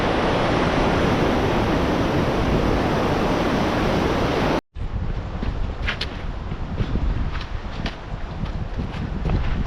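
Nevada Falls in Yosemite roars as a dense, steady broadband rush that suddenly cuts out for an instant, then gives way to a softer water wash with faint high ticks and a few thin tones.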